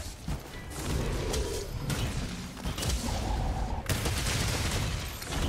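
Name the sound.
gunshots and explosions in video game Monster Hunter World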